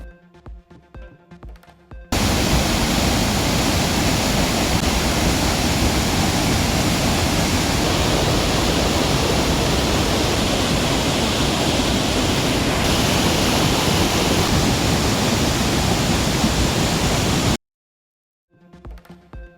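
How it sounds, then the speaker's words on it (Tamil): Water roars steadily down Agasthiyar Falls, swollen after days of continuous rain, a loud, dense, unbroken rush that starts abruptly and cuts off just as suddenly, with brief quieter sounds at either end. "தொடர் மழை காரணமாக அகஸ்தியர் அருவியில் ஆர்ப்பரித்து கொட்டும் தண்ணீர்"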